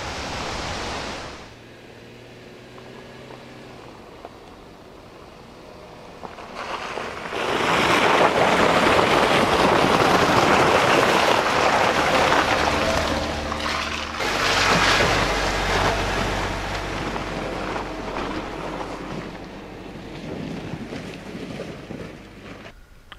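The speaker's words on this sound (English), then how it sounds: "I just got distracted by a waterfall in Yellowstone" A Yellowstone waterfall roars as a steady broadband rush of falling water, swelling loud after a quieter opening and holding a dense, continuous wash with slight surges, no voices over it.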